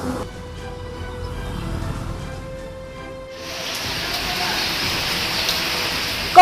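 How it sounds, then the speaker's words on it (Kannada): Heavy rain falls in Koppal, Karnataka, a steady hiss of downpour that grows louder and denser partway through. "ಕೊಪ್ಪಳದಲ್ಲಿ ಮಳೆ ಆರ್ಭಟ ಮುಂದುವರೆದಿದೆ"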